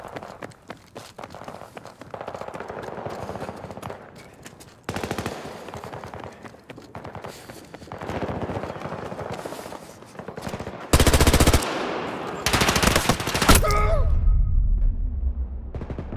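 Machine gun fire in the Battlefield video game, loud sustained bursts of rapid automatic shots with brief gaps, footsteps running between volleys and a heavy burst near the end.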